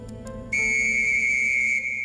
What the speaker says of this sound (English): The whistles are blown and the men come out of the trenches.